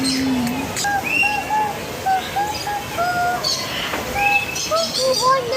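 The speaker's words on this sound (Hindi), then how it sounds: "वो देखो ऊपर तोता।" Parrots and other birds call from overhead in an aviary bird park, Chirpy Park in Bahria Town, Karachi, with repeated bright chirps and whistles scattered over a steady background murmur of crowd and ambient noise.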